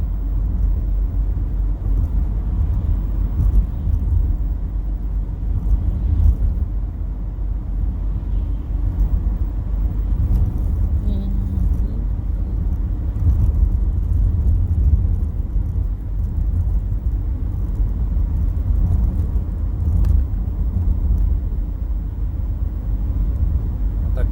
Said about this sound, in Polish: troszkę dłużej będzie pyrkał samochód na biegu jałowym